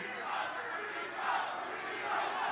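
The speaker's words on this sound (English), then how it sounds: "Crowd starting to chant Rico's name" A fight-event crowd at a pit fighting bout chants a fighter's name, Rico, in a loud, continuous roar of many voices with rhythmic swells, heard alone without close talk.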